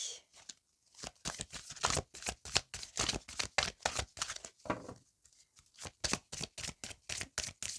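Tarot cards are shuffled by hand in a steady series of close, crisp riffling bursts, with a few short pauses between them and no talking.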